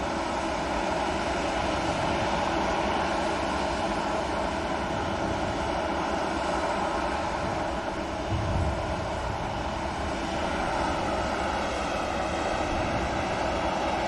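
An Indigo airliner at Manchester Airport gives off a steady, loud engine roar that holds evenly throughout, with no voices over it.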